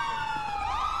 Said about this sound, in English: Turn your sirens off!